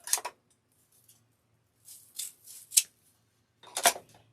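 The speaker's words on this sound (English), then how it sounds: "so now we're just going to cut this off" Scissors cutting ribbon for a St. Patrick's Day gnome and sign wreath kit: a few short, crisp snips separated by quiet pauses, close and fairly loud.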